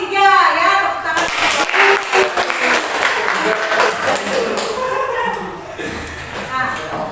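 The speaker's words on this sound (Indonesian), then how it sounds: "tepuk tangan" Classroom applause from students after a group is chosen, a dense patter of clapping that starts sharply and continues steadily for several seconds, with a teacher's voice speaking at the start.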